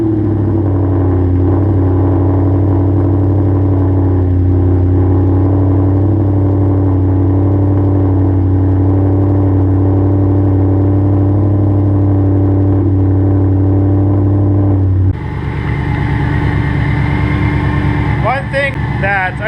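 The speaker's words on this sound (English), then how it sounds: "that supercharger whine. And the bigger the blower, the smaller the shift, the more she screams." A supercharged project car engine with a Shelby Super Snake shifter idles and revs with a low steady rumble, then rises into a higher whine near the end, heard close and loud alongside a voice.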